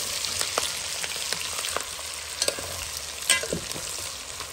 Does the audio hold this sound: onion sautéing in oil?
yes